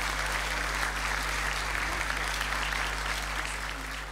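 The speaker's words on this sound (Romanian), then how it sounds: "În aplauzele dumneavoastră, haideți!" Audience applause for performers on stage at a folk music show, a dense, steady roar of clapping that fills the whole stretch at an even level, with low hum underneath and no voices.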